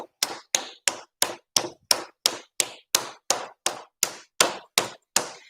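A hand smacks a slab of clay flat with about fifteen evenly spaced, sharp slaps, close and distinct, each dying away quickly before the next.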